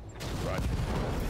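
Ammo stack explosion on a mech in the Battletech video game, a sustained loud roar of blasts and crackling gunfire-like bursts filling the whole moment.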